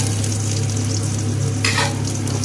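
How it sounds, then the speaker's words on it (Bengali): Chopped onion drops into hot oil already frying dried chili and cumin, a steady close sizzle with a brief louder crackling burst as the onion goes in, no talk. "লঙ্কা ও জিরে ভাজা ভাজা হয়ে গিয়েছে, এবার এর মধ্যে দিয়ে দেবো কুচনো পেঁয়াজ।"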